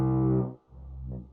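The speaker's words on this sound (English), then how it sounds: "that's the horn" A buzzy synthetic vehicle horn in the video game Scrap Mechanic sounds twice: one longer honk, a brief gap, then a shorter second blast, loud and isolated.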